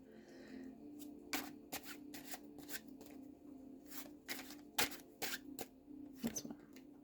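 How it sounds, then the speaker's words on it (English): Tarot cards shuffled by hand and spilling from the hand, giving a string of crisp, irregular riffles and flutters with sharp slaps, close and clear with no talking. "I've got cards falling out of my hand and not in a way to be read."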